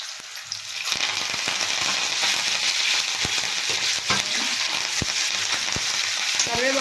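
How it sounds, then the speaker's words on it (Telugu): Green chillies and tempering seeds fry in hot oil with curry leaves, a dense close sizzle broken by sharp pops and crackles as the seeds burst, with occasional stirring. "పచ్చిమిర్చి వేసి బాగా ఫ్రై చేయాలి ఇవి కొంచెం ఇవన్నీ పోపు గింజలన్నీ కొంచెం ఎర్రగా కావాలన్నమాట"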